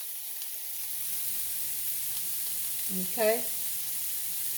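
Onions fry in a pan for a crustless spinach quiche, giving a steady, close sizzle throughout. A voice speaks one brief word near the end.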